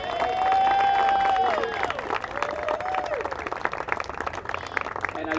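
Audience at a Santa Cruz library historical site event applauds with dense clapping and some vocal cheering, steady throughout at moderate loudness.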